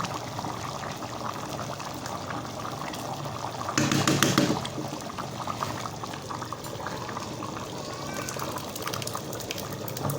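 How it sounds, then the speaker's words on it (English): Egusi soup boiling and bubbling in a pot, a dense continuous fizz of bubbles with a brief louder surge near the middle, close up and with no talking. "Now you can hear the soup boiling and bubbling."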